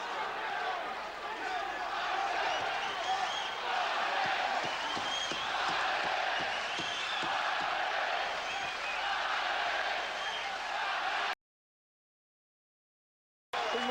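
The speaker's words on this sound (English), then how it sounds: "Mundine's hearing the crowd roar for him" A boxing arena crowd roars steadily for Anthony Mundine during his fight with Mikkel Kessler, a dense continuous wall of cheering and shouting that holds level before cutting out abruptly near the end.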